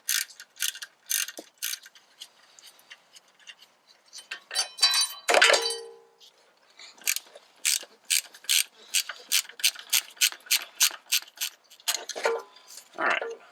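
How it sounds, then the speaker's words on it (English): Close ratchet wrench clicking in repeated quick bursts, unbolting a brake line on a 2005 Ford F250, with short pauses and a metallic clink between runs. "Now we need to unbolt her off of here, and we can remove the entire brake line assembly here."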